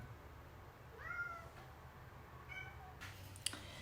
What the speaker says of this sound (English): The cat is here saying hello.